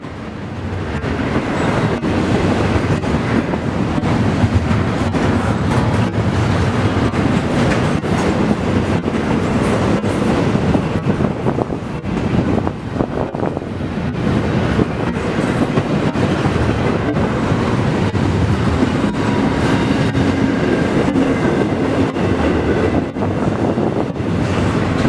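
A DTE coal freight train pulled by C6M locomotives rolls past near Toledo, a loud, continuous rumble and roar of wheels on rail with rhythmic clatter that stays steady and close throughout.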